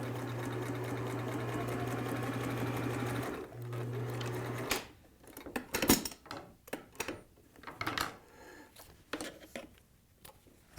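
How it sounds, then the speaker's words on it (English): A sewing machine runs a steady straight stitch along the folded, ironed hem of a cloth cap for about four seconds. A brief pause follows, then a short final burst, and then scattered handling clatter. "sew that place that I folded over on the bottom"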